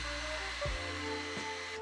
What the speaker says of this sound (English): I used a hair dryer to accelerate the dry time of the spray paint.